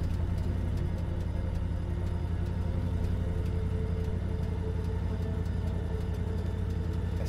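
Car engine in the video game Cyberpunk 2077, a steady low rumbling idle with a fast, even pulsing throb, close and continuous with no talk over it.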